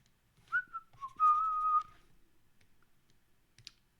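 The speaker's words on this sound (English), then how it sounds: "I'll try not to whistle too much because I'm aware that's usually a bad noise to hear on a stream" A person whistles two short tuneful phrases, the second a held note, close and clear in a quiet room, followed by a few soft clicks.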